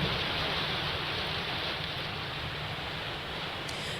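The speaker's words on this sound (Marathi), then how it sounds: "पुणे जिल्ह्यात सुद्धा भरपूर पाऊस असा कोसळतोय" Heavy monsoon rain pouring down in Pune district, a dense, steady hiss of downpour that stays loud and unbroken throughout, with no voices.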